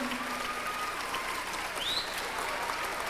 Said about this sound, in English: take a round of applause for all the hard work that you've done for us